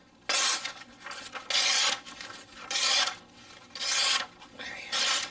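A knife blade, from a tactical knife, shaves curly wood curls off a piece of wood in five steady rasping strokes with short pauses between, close and crisp, without any talking.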